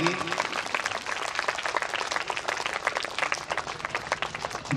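School audience applauding steadily at a ceremony honouring a guest, a dense, even patter of many hands clapping throughout, with a few voices faintly underneath.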